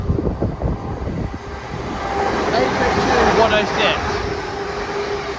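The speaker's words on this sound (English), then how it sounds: "we're going to have a fast Great Western Railway service" A fast Great Western Railway train runs through a station near Oxford without stopping, its broad roar swelling and holding steady as it passes close by, with a voice heard over the start.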